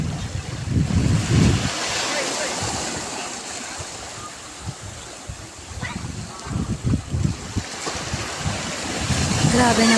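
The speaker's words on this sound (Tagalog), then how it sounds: "napakasarap pakinggan ng alon ng tubig. As in, napakasarap sa tenga yung paghampas mo sa mga bato." Ocean waves surging against rocks at Sentinela beach in Claveria, Cagayan, a steady loud wash of surf with wind noise, swelling and breaking repeatedly with no talk.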